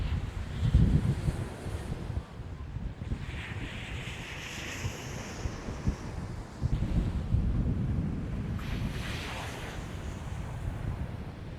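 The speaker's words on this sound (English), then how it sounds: "Got your waves coming in and out." Waves roll onto a beach near a steam electrical generating plant, with recurring surges of surf under strong wind buffeting the microphone, and no voices.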